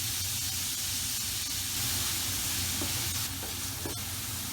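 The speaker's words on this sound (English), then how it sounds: "And we just want to very lightly brown the onion." Onion lightly browning in a pan, a dense, steady sizzle close up with faint stirring scrapes toward the end, no voices.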